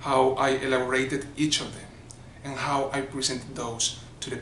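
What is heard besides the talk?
No everyday noises stand out.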